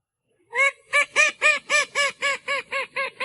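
Loud, piercing quacks from a call duck come in a steady run of about ten evenly spaced calls, close and alone, with no voices.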